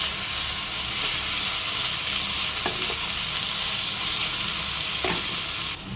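Tomato, capsicum, sliced onion and two green chillies fry in a pan, giving a steady, loud sizzle throughout with a few stirring scrapes and no talking.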